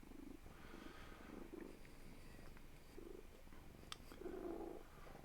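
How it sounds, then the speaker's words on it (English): A cat purring softly and close up, a low rumbling purr in steady pulses with quiet background noise and no talk. "Is her purr loud"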